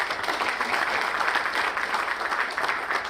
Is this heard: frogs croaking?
no